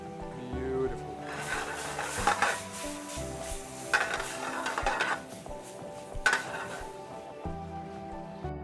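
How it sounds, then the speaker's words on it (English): Butter foaming and sizzling in a pan beside thyme while filet mignon cooks, a steady crackle with scraping stirs and clinks of a pan and utensil, mostly free of talk. "I try to bring butter to a foam."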